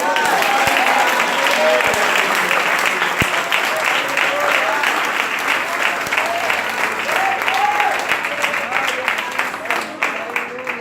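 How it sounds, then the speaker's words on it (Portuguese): Church congregation applauding for Jesus, a thick, sustained wave of clapping from many hands that holds steady and loud, easing slightly near the end, with faint voices mixed into the crowd. "Mais uma salva de palmas para Jesus."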